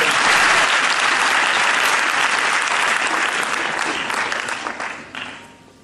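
Audience applause fills a conference hall, loud and dense, sustained for several seconds before tapering off near the end, with no talk over it.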